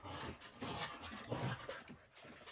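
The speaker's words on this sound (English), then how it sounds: "Dogs are wrestling." Two friendly dogs wrestling at close range, with rough scuffling, panting breaths and low playful growls running continuously through the moment.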